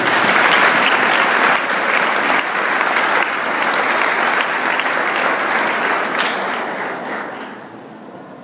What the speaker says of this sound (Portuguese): Dê um aplauso a Jesus.